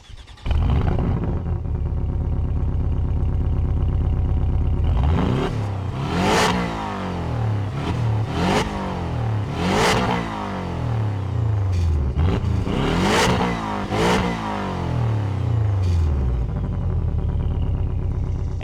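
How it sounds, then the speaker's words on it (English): A 2024 Porsche 718 Cayman Style Edition's flat-four engine cranks and catches, settles into a steady idle, then roars through several sharp throttle blips, each rising and falling back, loud and close with no talking. "The engine actually makes a pretty interesting sound. Let's go ahead and fire it up."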